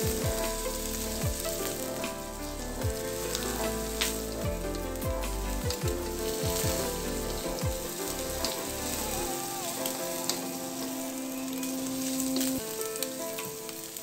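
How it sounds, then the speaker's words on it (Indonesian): Beaten egg sizzles steadily in a hot pan for long-life noodles, with occasional stirring scrapes over the constant frying hiss and soft music playing underneath. "Selanjutnya saya masukkan telur. Telur saya aduk lepas."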